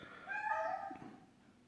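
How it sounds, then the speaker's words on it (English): Single drawn-out meow from a house cat, faint and a little distant in a quiet room, rising and then trailing off with no talking over it. "I don't know what he's meowing at right now"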